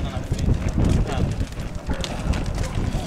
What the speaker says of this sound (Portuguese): Henrique é o cavalo da carruagem.